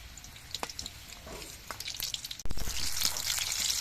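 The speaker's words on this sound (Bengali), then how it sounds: "এরকমভাবে পুলি পিঠেগুলো ভেজে নিতে হবে" Puli pitha dumplings fry in hot oil with a continuous close sizzle and crackle that swells louder about halfway through.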